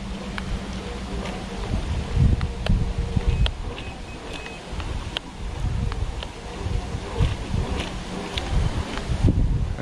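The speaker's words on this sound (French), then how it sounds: "Un peu beaucoup de vent." Strong wind buffeting the microphone on a Rhine riverbank during carp fishing, gusting in uneven rumbling bursts with rustling, fairly loud and continuous.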